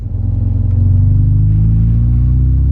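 A Nissan 240SX S13 with a manual gearbox accelerates up close, its engine a loud, steady rumble whose pitch climbs as it pulls through the gears. No voices are heard.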